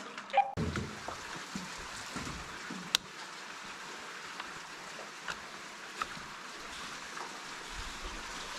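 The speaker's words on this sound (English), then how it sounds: "Glad the water's running over on that side and not this side." Water runs somewhere inside a mine shaft, a faint steady trickling wash with scattered drips and knocks echoing in a quiet underground space.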